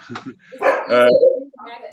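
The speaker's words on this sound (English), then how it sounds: "I think I'll let the dog bark." A dog barks a few times close by during a casual conversation, its yips and barks overlapping the speakers' voices.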